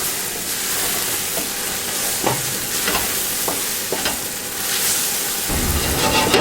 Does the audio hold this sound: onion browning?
yes